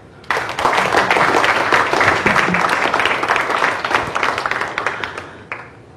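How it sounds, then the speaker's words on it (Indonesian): A studio audience at a televised talk show bursts into sustained, loud applause for Becky Young, with dense clapping that carries on for several seconds before tapering off. "Aplaus dulu untuk Becky Young."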